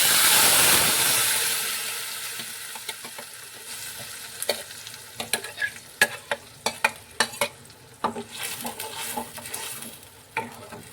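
Ground spice paste from the mixer frying in a pan with dried red chillies and curry leaves for egg curry, an initial loud hissing splutter that fades, then a run of quick clattering stirs against the pan.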